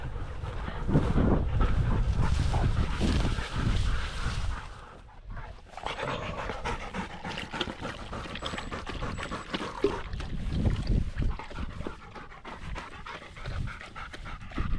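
Dogs pant heavily and rapidly nearby, a steady breathy rhythm that carries on throughout, with a brief lull midway and no talking.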